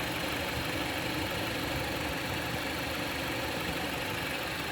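A 2.4 L Jeep Patriot engine idles steadily and loudly at close range after balance shaft and oil pump repair, building oil pressure: a constant rough mechanical hum with no other sounds.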